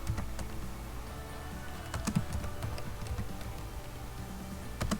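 Quiet, irregular clicking of a computer keyboard as someone types a git command, with scattered keystrokes and a few sharper taps over a low room hum.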